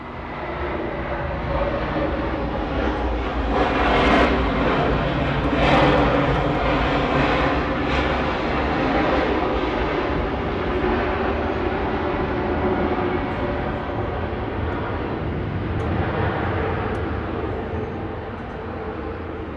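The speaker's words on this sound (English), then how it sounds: "that one, you can literally hear its engines. That United 737-700, this one taking off" A United Boeing 737-700 takes off at Atlanta's airport, its jet engines giving a steady, loud, broadband roar that swells and holds through the whole stretch without voices.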